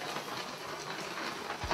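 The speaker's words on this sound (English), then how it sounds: "It's raining" Rain falling outdoors at a rural retreat in the Cederberg, South Africa, a soft, steady broadband hiss with no talking.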